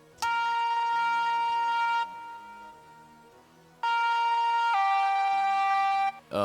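A sustained wavetable lead synth from the Xpand!2 plugin holds long, buzzy, harmonically rich notes through heavy filtering, with a short pause midway before a second held phrase, playing alone.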